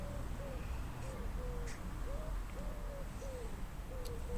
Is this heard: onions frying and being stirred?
no